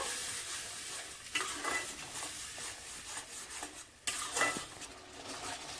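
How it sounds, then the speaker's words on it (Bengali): Spice masala paste is stirred and scraped around a pan while cooking a prawn curry, giving a steady close-up rasping scrape with soft sizzling and a few louder scraping strokes, with no talking. "এটা দিয়েও বেশ খানিকক্ষণ নাড়াচাড়া করে নেব।"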